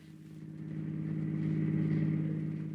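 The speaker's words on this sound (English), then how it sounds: "an automobile." Automobile sound effect from a 1942 radio drama: a steady, buzzing mid-pitched engine hum that gradually grows louder, like a car running or approaching, heard alone at low volume.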